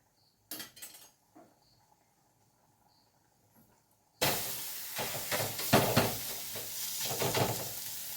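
Thalipeeth batter goes onto an oiled griddle: after a few clinks of utensils and near silence, a loud hissing sizzle bursts in and keeps crackling steadily to the end.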